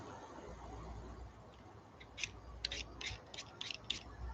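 Potatoes being peeled with a hand peeler, heard as a series of short, crisp scraping strokes in a quick irregular rhythm over low background hum. The sound is close but fairly quiet.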